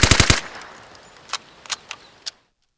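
Vigor SMG gunfire: a quick four-round burst opens, then a few scattered single shots with fading echo, up close, with no voices.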